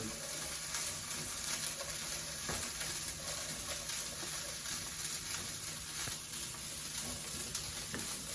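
Broccoli sizzling and caramelizing in a hot pan for a broccoli chickpea pasta, a steady dense frying crackle with fine popping throughout, close and even in loudness with no talking.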